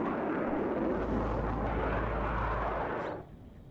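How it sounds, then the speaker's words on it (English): A MiG-27 jet makes an attack run on tanks in the WARNO war game, a loud broad roaring rush that holds steady and then cuts off abruptly near the end. "MiG-27 coming in here trying to take out our tanks"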